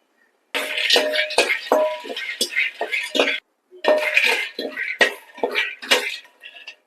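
Almonds dry-roasting in a pan for a healthy homemade powder, with a spoon repeatedly scraping and clinking against the metal in quick irregular strokes, close and fairly loud, broken by one short pause.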